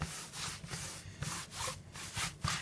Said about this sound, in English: take a damp baby wipe and come over the top with it